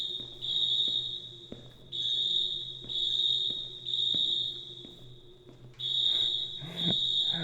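A blaring school fire alarm in the game Senior Sunset, shrill electronic tones sounding in repeated long bursts separated by short gaps, with clicking pulses underneath, steady and fairly loud with no voices.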